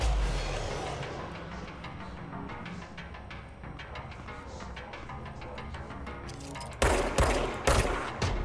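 Gunfire in the video game Control, a dense rattling fusillade of rapid shots that runs throughout and swells into louder, heavier bursts near the end, with no talking.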